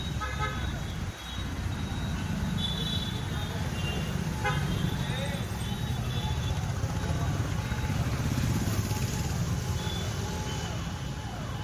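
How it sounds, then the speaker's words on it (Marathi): An ambulance passes along a busy Solapur road near the old Bhagwat theatre, with steady traffic noise, horn toots and a wavering tone midway, while voices talk in the background. "इकडून एक ॲम्ब्युलन्स आलेली आहे"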